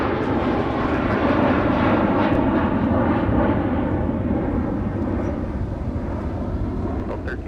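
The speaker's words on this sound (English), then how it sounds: "let's switch to the departing 717" A departing Boeing 717 jet at MSP airport gives a loud, broad engine roar that holds steady and then eases off slightly toward the end.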